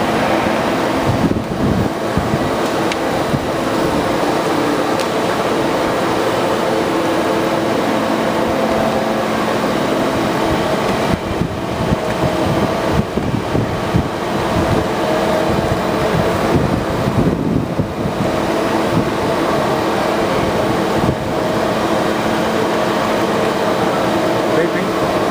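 A dewatering screw press compressing material, a steady dense mechanical rumble and whir with broadband hiss running throughout, loud and continuous at close range with no clear pauses.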